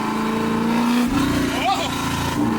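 Loud, raw revving of a car engine with no mufflers, a rough continuous roar that rises and holds for a couple of seconds while a voice exclaims over it.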